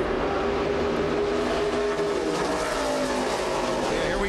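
NASCAR Nationwide Series stock cars race in a close pack at Daytona, a loud, continuous roar of engines at full speed with no break.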